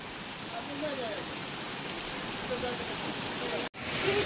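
Sirki waterfall near Pasighat in Arunachal Pradesh pours in a steady, broadband rushing roar of falling water, continuous and close throughout, with a brief dropout near the end.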